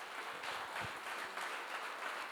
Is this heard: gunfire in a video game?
no